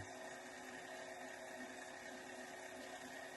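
Electric boiler circulation pump runs at its third speed, a steady, even mechanical hum and whir that holds unchanged throughout with no other sounds.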